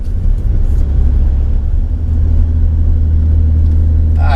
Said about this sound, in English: Cruises nicely at slower speeds, just driving around town, tooling around town.